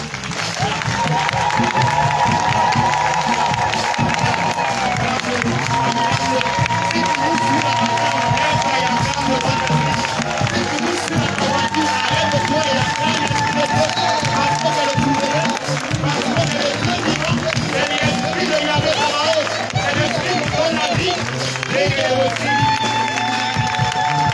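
A church congregation at Friday worship cheers and shouts in acclamation, a dense, loud, sustained roar of many voices mixed with clapping and music that keeps going without pause.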